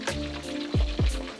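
Pieces of beef deep frying in hot oil make a close, bubbling sizzle, broken by a few low thumps as the pan or food is handled.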